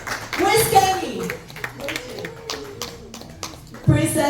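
Audience members at a beauty event in Houston clap in scattered, intermittent bursts while an announcer speaks over the applause and calls people forward.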